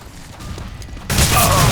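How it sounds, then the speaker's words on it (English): A flashbang grenade goes off in a video game as a sudden loud, harsh burst that cuts in after a quieter stretch and holds as a wide roar. "Flashbang."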